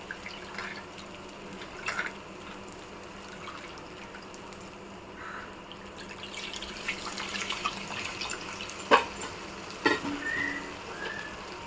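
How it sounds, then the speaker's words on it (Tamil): Quiet liquid sounds of tamarind water being poured and splashing into a pot, with a few soft drips and clinks growing slightly louder toward the end. "இப்போ வந்து புளி கரைச்சி ஊற்றிக்கலாம்"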